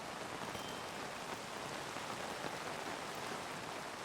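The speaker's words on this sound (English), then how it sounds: "and rain on wool" In Minecraft with the Cool Rain mod, rain falls on wool blocks as a dense, uniform hiss of steady downpour, unbroken and close, with no voices over it.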